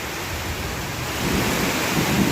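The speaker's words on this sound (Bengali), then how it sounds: "অনেক ঝড় হচ্ছে অনেক ঝড় অনেক ঝড় অনেক বৃষ্টি" Heavy rain pours steadily in a village in Faridpur district during a Pohela Boishakh storm, a dense hiss with low rumbling swells rising toward the end, no voices.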